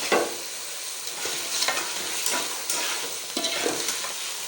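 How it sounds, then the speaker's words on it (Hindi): Potatoes fry in oil while being stirred for a spiced bhindi-aloo dish, a hissing sizzle with a handful of crisp spatula scrapes at irregular moments, near and moderately loud. "आलू डालने के बाद हम इसकी अच्छी तरह से भुनाई कर लेंगे।"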